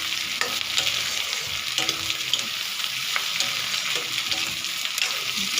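Capsicum and other vegetables fry lightly in a pan for chili paneer, giving a continuous close sizzle broken by light stirring scrapes and taps, with no talking.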